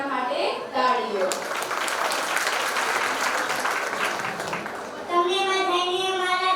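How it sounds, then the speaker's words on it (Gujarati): Audience applause after a Rajasthani dance by young girls at a Gujarati-medium pre-primary school annual function, a few seconds of steady clapping between a presenter's announcements, with talk heard before and after. "રાજસ્થાન ડાન્સ તો જોરદાર થઈ જાય એના માટે તાળીઓ"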